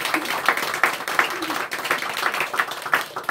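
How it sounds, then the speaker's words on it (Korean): A church congregation applauding performers during a Sunday morning service, a steady patter of many hands clapping at moderate distance, fairly soft and continuous. "박수 한번 드리겠습니다."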